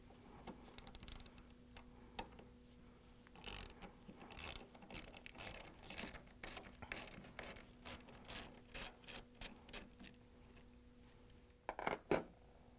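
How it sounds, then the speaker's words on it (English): A 10mm socket on an extension and ratchet works hinge bolts loose, giving quick close clicking bursts in uneven runs with short pauses and a faint steady hum behind. "we're going to grab the 10mm socket with an extension and a ratchet. Take out the 3 bolts that hold the hinge on"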